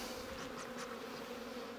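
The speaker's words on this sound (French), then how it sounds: "je vois que j'ai des abeilles tout par là" Honeybees hum at an opened spring beehive, a steady close buzzing drone of many insects with no talk over it.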